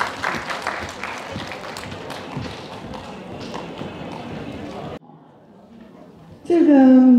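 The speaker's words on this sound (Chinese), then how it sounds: "我们再次热烈的掌声" An audience at a Chinese senior services association birthday party applauds a dance teacher, with dense sustained clapping for about five seconds before it drops away. A voice speaks over amplified sound at the end.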